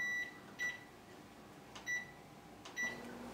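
A bread machine being switched on for French bread dough gives three short, high electronic beeps spaced about a second apart, clear and close against a quiet room hum.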